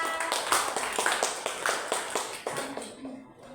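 Students in a classroom clap after a group presentation, a modest burst of irregular handclaps from a small group that gradually slows and fades out.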